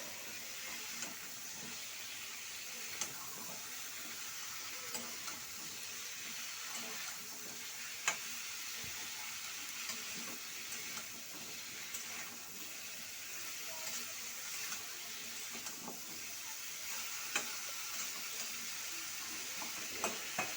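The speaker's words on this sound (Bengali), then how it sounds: "নুন হলুদ দিয়ে দিয়েছি, এবার একটু নাড়াচাড়া করে নিচ্ছি।" Fish curry with salt and turmeric is stirred in a pan, with a faint, continuous low sizzle and occasional soft scraping clicks throughout.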